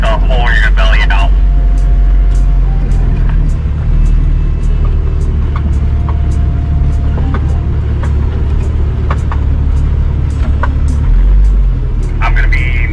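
Heavy off-road truck engines rumble loudly and continuously at close range on the Daniel Boone Backcountry Byway trail, with sharp clicks and bursts of voices over the low drone.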